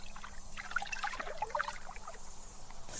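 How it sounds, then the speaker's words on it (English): Lake water laps softly under wooden boards at dusk, a faint, close trickle of small gurgles and splashes over a low, steady hush. "Lap and lap under the boards below you."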